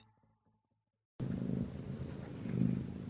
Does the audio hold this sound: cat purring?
yes